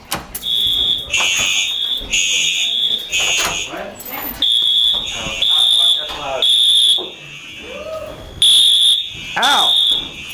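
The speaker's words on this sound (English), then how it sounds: "We got a fire alarm." Loud fire alarm in a Rochester Institute of Technology residence hall, Ellingson Hall, after burnt popcorn: a piercing high electronic tone pulsing in repeated bursts, close and harsh, with people talking and exclaiming over it.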